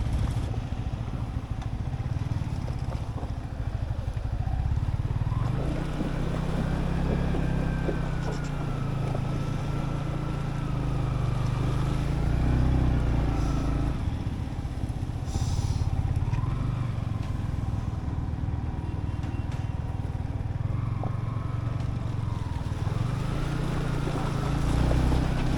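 A Yamaha MT-15 motorcycle splashes through Himalayan water crossings and potholes between Nubra Valley and Pangong Tso in Ladakh, its engine droning steadily up close with wind and water churning throughout.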